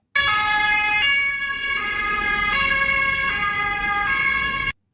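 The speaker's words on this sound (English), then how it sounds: "I guess that's the sound of an ambulance." An ambulance siren sounds close and loud, alternating between two steady pitches in a regular hi-lo pattern for several seconds before cutting off abruptly.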